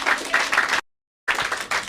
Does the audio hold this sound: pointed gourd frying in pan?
no